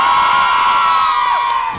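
A basketball crowd at a UW-Eau Claire vs UW-Superior NCAA men's game cheers loudly for Rocco Paulson, a sustained roar with high whoops and shouts that fades slightly near the end.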